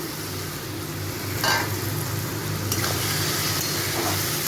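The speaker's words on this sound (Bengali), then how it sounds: "এবার এইগুলোকে একটু আমি ভালো করে ভেজে নেব। এর মধ্যে আমি শুটকি মাছটাকেও দিয়ে দেবো।" Dried lote fish (shutki) frying with spices in a pan, a steady loud sizzle with occasional scraping stirs, no talk.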